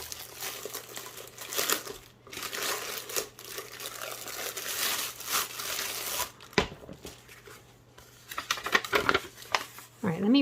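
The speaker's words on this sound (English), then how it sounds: "I opened the envelope" Paper envelope being torn open and handled, with crinkling and tearing bursts, rustles and handling noise, and a person talking briefly near the end.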